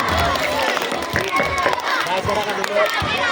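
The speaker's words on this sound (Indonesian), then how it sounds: "Beri tepuk tangannya Mbak yang meriah." A primary school crowd at an Isra Mi'raj commemoration claps and cheers lively, a busy mix of hands and children's voices filling the room with overlapping chatter throughout.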